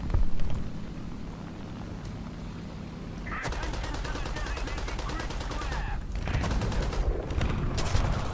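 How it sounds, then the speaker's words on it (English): Machine gun fire from the War Thunder tank game, a sustained rapid burst of rattling shots from about three seconds on that sits over low engine rumble. "Shooting your machine gun, buddy."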